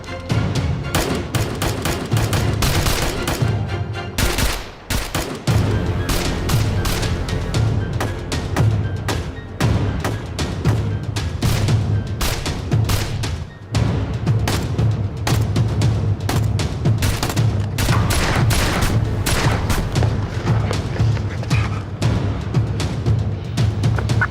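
Battle scene from a Turkish TV drama: loud, continuous bursts of gunfire run throughout with dense rapid shots and heavy booms, a brief lull near five seconds and another near fourteen.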